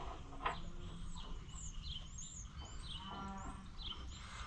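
Cattle mooing at a junkyard, with several drawn-out, wavering calls from a few cows at mid distance, faint bird chirps underneath.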